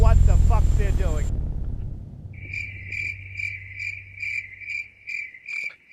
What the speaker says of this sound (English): Oh, the sound of crickets.